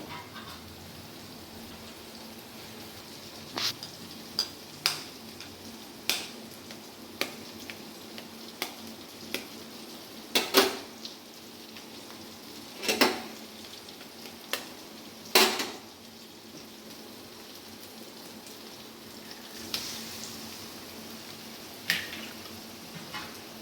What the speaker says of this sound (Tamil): இப்போ வந்து முட்டை வந்து உடச்சி ஊற்றுறேங்க